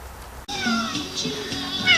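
A house cat lets out a single drawn-out meow after a brief dropout, close and clear with a wavering, slightly falling pitch, followed by softer chirping tones.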